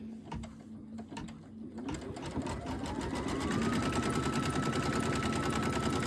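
A sewing machine stitches down a quilt block for a wildflower cushion, starting slowly with a few clicks and then running fast in a steady, rapid, close rattle that rises in speed and holds.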